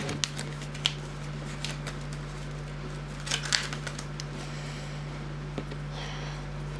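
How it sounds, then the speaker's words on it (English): A deck of playing cards being shuffled during a basic card trick, giving soft scattered riffling and flicking ticks with a few sharper snaps over a steady low electrical hum, no voices. "shuffle a deck"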